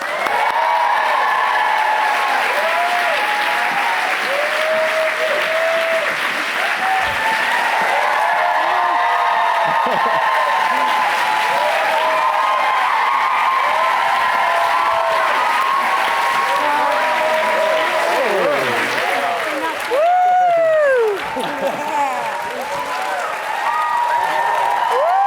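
A large audience at a Crazy Rich Asians screening event applauds and cheers to welcome the moderator and cast, a loud sustained roar of clapping with whoops rising over it for the full stretch.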